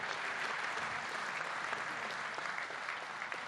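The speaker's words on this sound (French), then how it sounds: "d'applaudir toutes ces entreprises sans exception" Applause from a forum audience at an awards ceremony of the 2016 International Africa Development Forum: dense, continuous clapping from a large crowd, sustained and fairly distant, with no voices over it.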